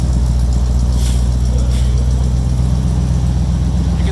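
A 1967 Buick Riviera V8 engine idles with a steady, deep rumble at close range, loud and even throughout with no revving.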